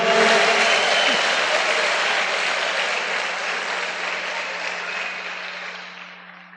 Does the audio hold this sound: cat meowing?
no